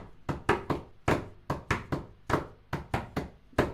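Sharp knocking taps played in a steady interlocking 2 against 3 polyrhythm, close and fairly crisp, with no voice over them.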